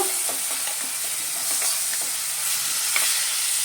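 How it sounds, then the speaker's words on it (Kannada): Finely chopped medium tomato frying in a pan, a steady close sizzle with soft spoon taps and stirring scrapes scattered through it, no voices. "ಈಗ ನಾನು ಮೀಡಿಯಮ್ ಸೈಜ್ ಟೊಮೆಟೊನ ಸಣ್ಣದಾಗಿ ಕಟ್ ಮಾಡಿರೋದು ಹಾಕ್ತಾಯಿದ್ದೀನಿ"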